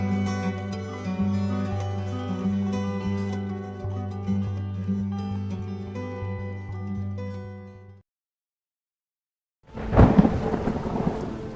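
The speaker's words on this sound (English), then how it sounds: "The storm doesn't ask." Loud thunder cracks and rumbles over heavy rain in a storm, bursting in after a brief silence and preceded by sustained music.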